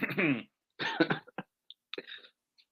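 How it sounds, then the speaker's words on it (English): A person clears their throat in a few short, rough bursts, close and fairly quiet, with brief pauses between them. "I should clear my throat."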